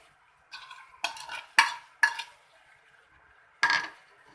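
Egg fried rice with dark soy sauce and fried egg being stirred and tossed in a pan, several scraping, clattering strokes in bursts separated by brief quiet gaps, close and clear with no talk.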